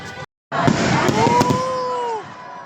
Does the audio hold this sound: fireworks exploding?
yes